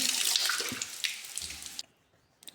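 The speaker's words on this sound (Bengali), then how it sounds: "ধনিয়া পাতা মাটি থাকে তো ভালো করে ধুয়ে এখন এগুলো" Coriander leaves being washed under a running kitchen tap, a steady broadband splash of water that cuts off abruptly near the end, leaving near silence with a faint drip or clink after.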